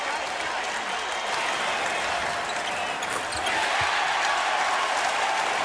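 A basketball arena crowd cheers and applauds at an NBA Eastern Conference Finals game between Boston and New Jersey, a dense, loud, sustained roar that swells slightly toward the end.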